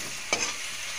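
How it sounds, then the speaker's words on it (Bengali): A spoon scrapes through a ridge gourd and rohu fish curry frying in a pan, making one quick stirring swish over a soft, constant sizzle. No one speaks. "এখন আমি ভালো করে নাড়ি চাড়িয়ে নেব।"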